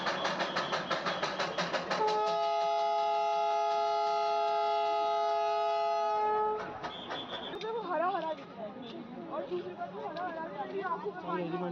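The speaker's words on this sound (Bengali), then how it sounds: "এই টয় ট্রেনে হর্নটাও বেশ দারুণ লাগছে শুনতে" A steam toy train's steady horn tone sounds for several seconds over a chattering crowd at Lamahatta near Darjeeling, then fades into continued talking.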